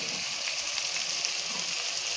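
Onions frying in a pan with a steady bright sizzle, continuous and close, with faint stirring underneath and no talking.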